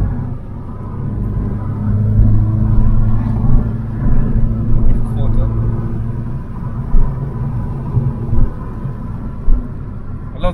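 A MINI car drives with a continuous low engine rumble and road noise. The drone swells and eases, and scattered bumps and thumps stand out near the end.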